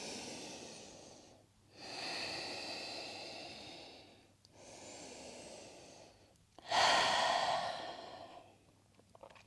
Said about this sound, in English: Big breaths. Maybe inhale through the nose, exhale out the mouth.